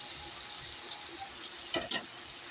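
Chopped tomato, salt and ground spice paste with onion, garlic and ginger sizzling in hot oil in a pan, a steady close hiss with two brief sharp clatters of stirring near the end.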